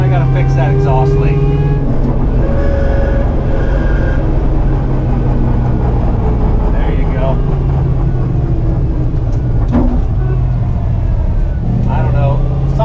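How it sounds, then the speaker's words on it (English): Truck drivetrain with a failing bearing in the transfer case, a steady loud mechanical drone and growl with faint chirps, an exhaust leak noted, while people talk nearby over the noise. "Sounds like a bearing screwed up and it's chirping"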